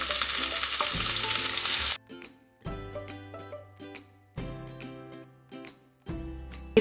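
Onion tempering with mustard seeds, green chilli and curry leaves crackles loudly in hot oil for about two seconds. The sizzle then cuts out, and separate short tonal bursts with gaps follow.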